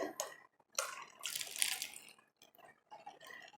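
Fresh watermelon juice poured into a martini glass, a few short splashing, trickling bursts with a brief clink of glass, close by and fairly quiet, with pauses between pours.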